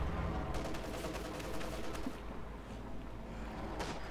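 Gunfire from a Panzer IV attacking infantry in Company of Heroes 2, a dense, continuous battle din of rapid shots and rumbling fire, steady and loud throughout.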